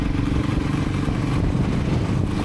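Voge 300 Rally motorcycle being ridden, with a loud, steady low engine rumble mixed with heavy wind buffeting close to the rider.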